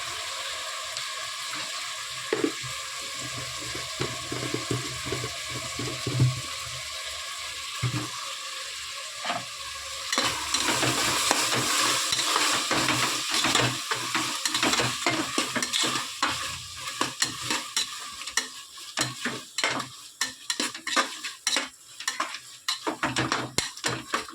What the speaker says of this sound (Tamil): வெங்காயம் தக்காளி வதக்கணுங்க